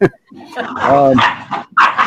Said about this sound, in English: And now we have more puppies.